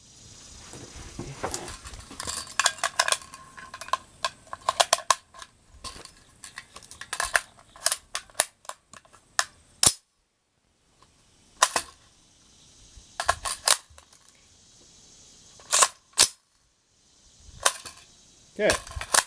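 Shots from a .450 Bushmaster rifle fired at 50 yards during load testing, heard as sharp, loud reports spaced several seconds apart with quiet gaps between, plus some clattering handling noise.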